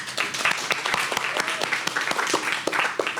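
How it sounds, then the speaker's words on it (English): An audience at a live paranormal podcast recording at a brewery applauds, brisk close clapping from a modest crowd that stays steady through the short stretch. "so we can get a round of applause for Pour Brothers"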